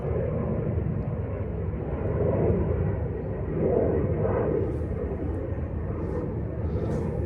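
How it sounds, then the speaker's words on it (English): A jet aircraft taking off from a nearby airport makes a steady low rumble that swells gently twice, distant and continuous over an outdoor fishery setting, with no talking. "every now and again you'll hear a jet going off, going abroad."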